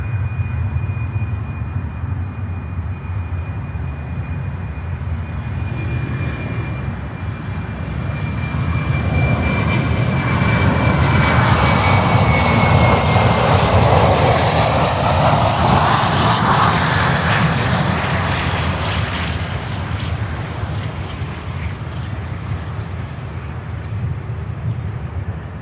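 Airliner landing on runway 9 at Miami airport: a steady, loud jet engine roar that swells as the aircraft passes close, with a high whine sweeping down and low rumble throughout, no talk.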